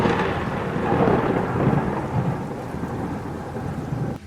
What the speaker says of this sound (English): The rain lashed against the broken windows of the Blackwood house like skeletal fingers trying to claw their way in.